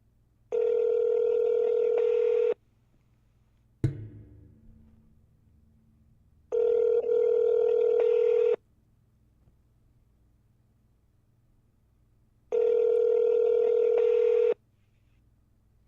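A telephone call rings out as three long, evenly spaced ringback tones, each about two seconds with quiet gaps, plus a sharp click of the handset between the first two.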